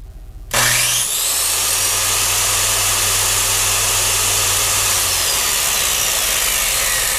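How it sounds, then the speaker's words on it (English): A battery-powered circular saw, drawing 60 amps, spins up with a sharp start and then runs at a steady, loud whine with no cutting or talk. "60 amps off of the battery to make this circular saw run"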